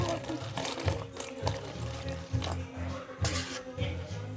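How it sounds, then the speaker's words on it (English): Hot water trickles and splashes into a slime-making mix in a steady, moderately faint pour with a few brief louder gushes. "We're gonna put a tiny bit of hot water."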